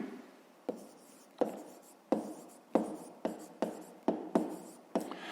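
Handwriting on paper for a school math problem: nine or ten quick pen strokes arrive in an irregular rhythm, each starting with a sharp scratch and fading quickly, heard up close at low volume with no voice over them.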